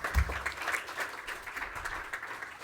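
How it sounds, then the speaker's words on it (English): Moderate audience applause after a paper presentation at a usable security and privacy symposium, a brief burst of clapping that holds steady then thins, with no one speaking over it. "let's give a round of applause"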